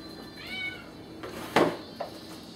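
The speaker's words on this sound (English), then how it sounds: "I don't know if you guys can hear that cat right now" A 2.5-month-old kitten gives a thin, wavering meow, then a louder sharp meow and a brief shorter one, heard indoors against a steady background hum.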